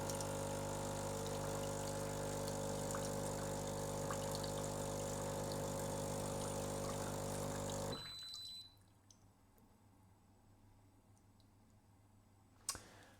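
A Breville Barista espresso machine runs its descaling cycle, giving a steady loud mechanical hum with faint clicking and dripping water, then abruptly drops to a quiet hiss and a single sharp click near the end.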